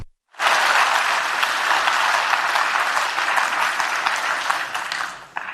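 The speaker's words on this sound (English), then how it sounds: "I think a round of applause for Europe." A large audience breaks into loud, sustained applause for Europe during a speech by Emmanuel Macron. The thick, even clapping swells in at once and carries on for about five seconds before fading slightly.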